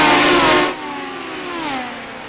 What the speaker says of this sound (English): Finally got the sound fixed to get the car sounds through to you.